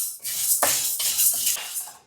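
Toor dal dry roasting in a pan, with repeated scraping and rattling strokes of a utensil stirring the dry lentils, close and moderately loud.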